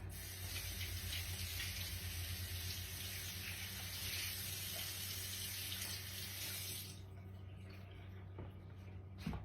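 Raw chicken being rinsed under a running kitchen tap, with a steady rush of water into the sink that stops abruptly near the end, leaving quiet room sound.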